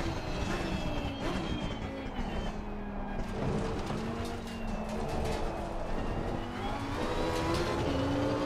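A Lamborghini engine revving in a racing video game, with a continuous loud engine whine that rises and falls as the car accelerates and shifts, with no talking.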